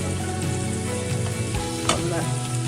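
Cashew nuts fry in oil in a pan for a South Indian upma, giving a continuous close sizzle with light stirring scrapes and no talk.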